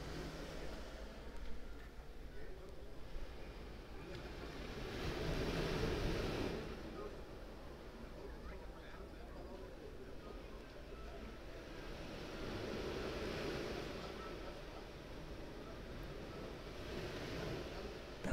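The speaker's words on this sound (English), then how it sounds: "I'm going to leave you with some sounds of the ocean." Calm ocean waves wash in slow, gentle surges, swelling and fading twice in a steady, soft roar with light wind noise and no talking.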